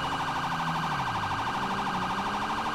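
A police car siren wails continuously in GTA V during an LAPD patrol pursuit downtown, a loud, close, rapidly cycling electronic tone that sounds alone.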